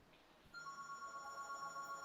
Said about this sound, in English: Somebody's phone is ringing.